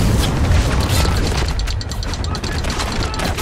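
Mortar fire in the war shooter Spec Ops The Line: heavy booming blasts and rumbling impacts roll over one another in a loud, continuous barrage with mechanical clatter, and no voices over it.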